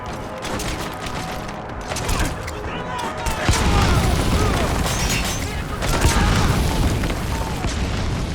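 A hand grenade going off in Metal Gear Solid V on PlayStation 5, a heavy boom with rumbling, crackling debris in a dense game soundscape that swells again midway and stays loud to the end.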